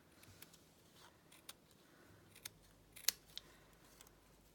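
Scissors trimming the printed frame off a kiwi picture, a handful of faint crisp snips spaced irregularly over a quiet background.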